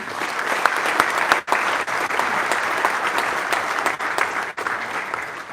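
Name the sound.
audience applause for Paul Espargaro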